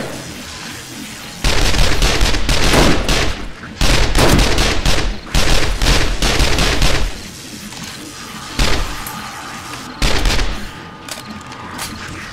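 Submachine gun fire in the video game 7 Days to Die (Alpha 17), the weapon nearly worn out: loud bursts of rapid automatic shots, several separate volleys broken by short pauses, close and dominant.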